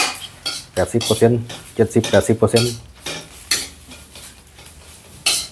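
Beef for Thai red curry is stir-fried over low heat, with a metal spatula clattering rapidly against the pan in bursts over a soft sizzle. A voice speaks briefly partway through.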